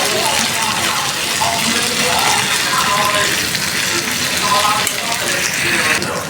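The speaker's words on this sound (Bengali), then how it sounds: "এই যে এখন ভাজা পটল, আলু, কাঁকরোলটা দিয়ে দিলাম।" Fried pointed gourd, potato and spiny gourd tipped into sizzling cooked-down masala in a pan give a loud, steady frying hiss with watery crackle throughout.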